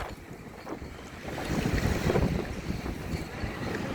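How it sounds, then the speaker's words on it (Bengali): Wind gusts across an open outdoor space, a steady rushing roar buffeting the microphone that swells louder midway and stays strong, with no voices. "বাতাস।"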